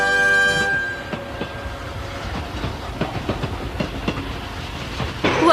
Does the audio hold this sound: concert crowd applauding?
no